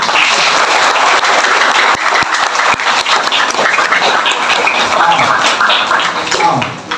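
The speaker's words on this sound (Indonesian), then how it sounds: "Coba adik tepuk tangan yang kencang" A seated audience at a Balinese Hindu dharma talk claps loudly together, a dense, close clatter of hands lasting several seconds and tapering slightly near the end.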